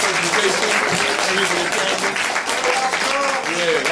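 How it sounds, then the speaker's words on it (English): Loud, sustained applause from an audience after a lecture presentation continues steadily, with a voice speaking over the clapping near the end. "we just have to once again give a brother a round of applause"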